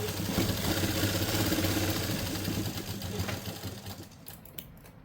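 A sewing machine runs steadily at close range, stitching a second seam on a simple suit, with a fast, even mechanical whir that slows and fades near the end, with no voices.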